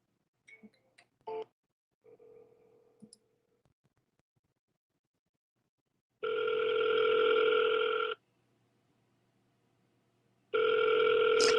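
An outgoing phone call: after a few brief beeps, two long ringback tones play a few seconds apart, steady and clear over near silence.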